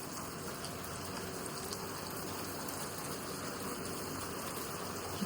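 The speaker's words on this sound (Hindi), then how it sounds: "कितनी फास्ट हो गई बारिश।" Steady, dense rainfall hisses without a break, a heavy downpour filling the whole clip at an even, fairly loud level.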